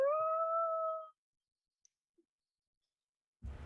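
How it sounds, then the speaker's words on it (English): A single wolf howl rises and holds a steady tone for about a second in the quiet background of a tabletop fantasy role-playing game session, then silence with faint clicks and a brief rustle at the end. "you hear a couple of howls in the background"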